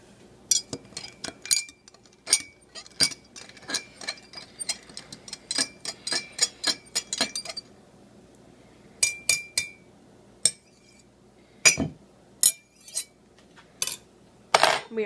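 A spoon stirs Jolly Ranchers candies in a glass of water, clinking sharply against the glass in quick repeated taps, pausing briefly, then resuming in louder, sparser knocks, close and clear with no talking.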